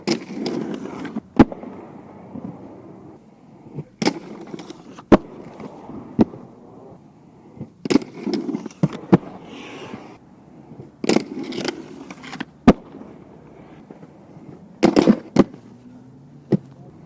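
Aggressive inline skates rolling and attempting X grinds, with sharp repeated clacks and slaps as frames strike and land, separated by rough rolling rumble across a long stretch, loud and close.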